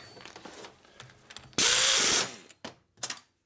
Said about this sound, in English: This is not a really good torque gun, so it doesn't torque like my old one does.